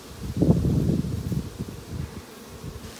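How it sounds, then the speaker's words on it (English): Honey bees hum and buzz steadily inside an open hive frame, a close, continuous drone that swells loudest early and then settles into a softer, fluctuating buzz. "A lot of bees in there."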